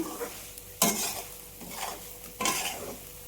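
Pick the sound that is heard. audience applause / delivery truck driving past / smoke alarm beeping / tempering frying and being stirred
tempering frying and being stirred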